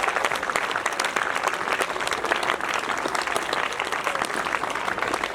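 An audience at a school annual function gives sustained applause, a thick, even wash of many hands clapping that goes on for several seconds without a break and with no talk over it.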